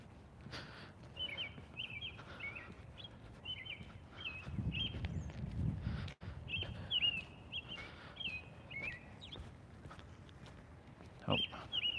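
Birds chirping outdoors in short repeated high calls, fairly faint against a quiet background with a brief low rumble partway through.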